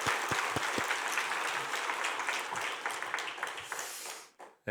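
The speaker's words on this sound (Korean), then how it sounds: "제가 여러분들께 박수를 드립니다." A church congregation at an evening service applauds warmly to welcome a pastor, with dense, steady clapping filling the hall that cuts off abruptly near the end.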